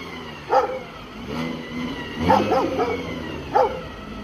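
A dog barks in a few sharp, separated bursts at a nearby car engine that revs and hums underneath, close and fairly loud outdoors at a shop.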